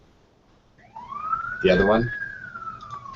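Police siren in the background, a single rising then slowly falling wail at moderate distance, with a voice talking briefly over it.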